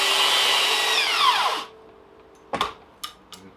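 A belt sander whirs loudly on scrap wood, then winds down and stops, followed by a few sharp knocks.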